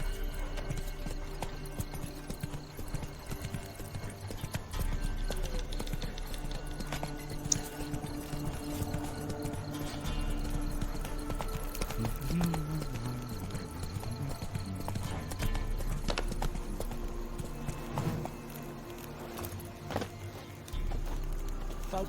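Hooves of the horse Roach clip-clop steadily at a walk in The Witcher 3: Wild Hunt video game, a continuous rhythmic patter over ambient game music and outdoor background.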